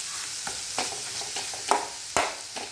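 Dried fish fries in oil with soft, steady crackle, broken by a few sharp louder pops and spits at irregular moments, fairly quiet overall and with no voices.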